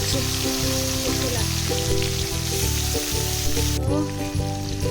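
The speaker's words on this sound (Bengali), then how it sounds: "ভেজে নেবো চিংড়ি মাছগুলো" Prawns fry in oil in a pan, throwing off a loud, continuous crackling sizzle close up, with a steady tonal hum running underneath and the sizzle softening slightly near the end.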